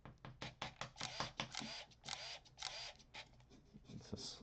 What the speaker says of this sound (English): It's a somewhat slow shutter speed.